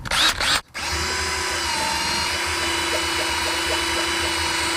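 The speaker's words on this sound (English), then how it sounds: "I give you the 20-volt cordless power drill" A 20-volt cordless power drill spins the oil pump of a car engine, a steady loud whine with a brief dropout near the start, then continuous even droning to the end.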